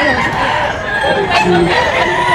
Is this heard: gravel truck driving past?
no